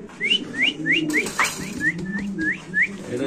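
Mundian pigeons, including a black Siraji pigeon, at a pigeon sale, with a run of short, rising bird calls repeating steadily about every third of a second over low background murmur and rustling.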